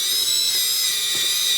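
A power tool spinning bolts tight in the C channel of a Decked single drawer system in a ZR2 truck, a continuous high-pitched whine close up, steady and loud.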